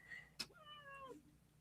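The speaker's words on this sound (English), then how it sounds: "She's meowing." A cat gives a single drawn-out meow, faint and close in a quiet room, preceded by a brief sharp tap.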